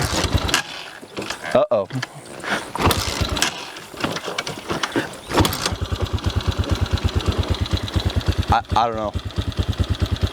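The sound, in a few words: X-Pro Hawk 250 dual sport motorcycle engine starting when cold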